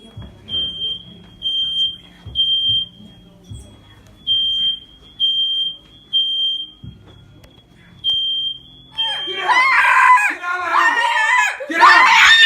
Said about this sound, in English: we're going to play fire alarm noise on this loud speaker